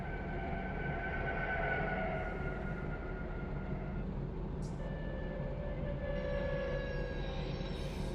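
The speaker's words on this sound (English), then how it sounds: "It's funny how you every once in a while hear the brakes squealing on it." Squealing train brakes sound in the Run 8 Train Simulator III video game, thin high steady squeals that rise and fade over a continuous low rumble of rolling freight cars, with no talking.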